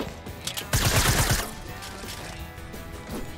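Rapid burst of gunfire in the Fortnite video game, a dense volley of sharp shots lasting under a second, loud and up front, followed by quieter game sounds.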